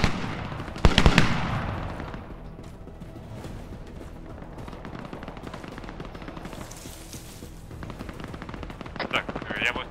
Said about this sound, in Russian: Вот он стреляет.